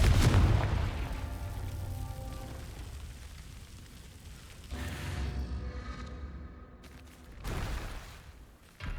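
A Confringo fire spell bursts in Hogwarts Legacy with a loud booming blast at the start, followed by a long fading rumble and crackle, with more explosive thuds after a few seconds.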